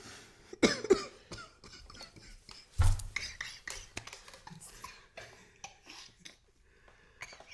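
A few sharp coughs stand out against a quiet room, mixed with faint clinks of cutlery and soft rustling.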